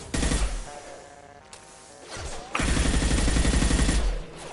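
Gunfire in Mass Effect 2 Legendary Edition, bursts of rapid close automatic shots with a brief lull of lower game sounds between two heavy, loud volleys.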